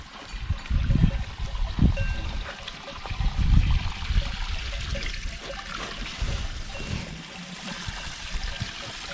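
Water trickles and gurgles continuously at a cold outdoor drinking fountain. Low, rumbling splashes swell and fade across the clip, and no one speaks.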